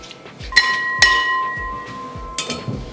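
Lid set on a pot of beef, producing a couple of bright metallic clinks with ringing overtones, then a later rattle, all close and fairly loud over soft background noise.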